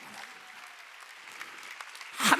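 Church congregation bursting into a short round of clapping at a Wednesday worship service, rising suddenly and loud at the very end after a quieter, murmuring stretch.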